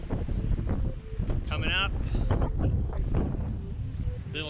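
Wind roars and buffets a microphone outdoors on a cold sunrise morning, a constant loud rumble that muffles a voice speaking briefly over it.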